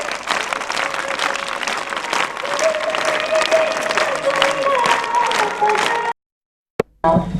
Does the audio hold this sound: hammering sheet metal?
no